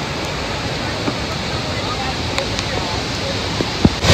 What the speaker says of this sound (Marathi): एवढा भयानक पाऊस आहे, धबधबा आहे